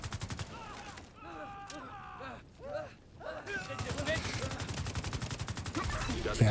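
Enemy gunfire in a video game, with rapid bursts of automatic shots that pause and then resume as a dense rattling barrage, mixed with game sound effects.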